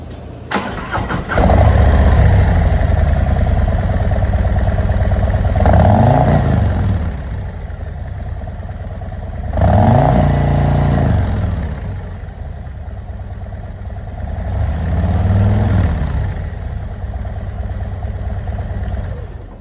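Motorcycle fitted with stock exhaust pipes, its engine starting and settling into a loud, close idle, with three throttle blips that briefly swell the low rumble before it drops back each time.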